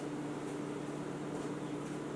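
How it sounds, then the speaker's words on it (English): A microwave oven runs with a steady low hum and an even whir, without a break, at moderate volume nearby. "I am gonna pop this in the microwave for like 10 seconds"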